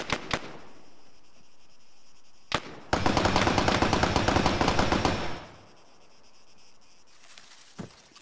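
Rapid automatic gunfire in ArmA 3, a sustained burst of dense cracking shots lasting a few seconds, framed by a few isolated single shots before and after, with faint ambient background.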